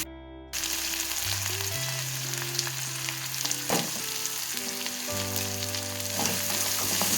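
Drumstick pulp sautés with a pinch of asafoetida and a little salt in a pan, a loud, continuous sizzle running beneath sustained background music, with occasional stirring scrapes.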